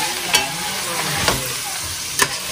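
Bitter gourd (ampalaya) sautéing in a pan, a continuous close sizzle broken by three sharp spatula scrapes and knocks at roughly even intervals, no voices.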